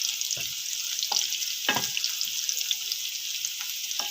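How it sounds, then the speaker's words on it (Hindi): Round red chilies frying in hot oil for masoor daal, a steady close sizzle with a few brief sharper crackles and stirring sounds, no voices. "सुरख मिर्च गोल वाली, साथ साथ अब जैसे ये फ्राई होगा"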